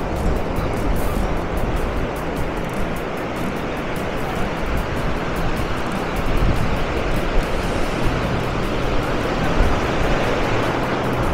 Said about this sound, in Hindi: काफी तेज लहरें आ रही हैं,